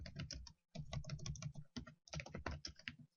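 Typing on a computer keyboard during a programming lecture, quick clusters of crisp close key clicks separated by short pauses, with no talking over them.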